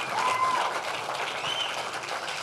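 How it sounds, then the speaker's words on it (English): Applause fills the room at an alumni rugby banquet, a steady even wash of many hands clapping, moderately loud throughout, with faint voices mixed in. "can we give Johnny B a round of applause here"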